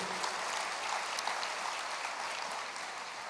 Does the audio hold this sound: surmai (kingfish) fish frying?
no